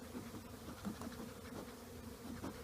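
Honey bees buzz softly inside a hive box during a move from a nuc into a deep, giving a steady low drone with small swells as a few bees pass close, and no voices over it.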